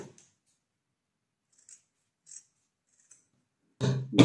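Scissors cutting a fabric strip for a child's dress, with a few faint, sparse snips in a near-silent room, then louder, closer crunching cuts at the end.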